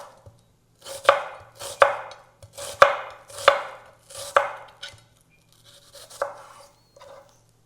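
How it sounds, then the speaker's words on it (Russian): A knife slices an onion into half-rings on a cutting board, seven or so crisp close thuds in a regular rhythm, then a couple of lighter cuts. "Режем лук на полукольца."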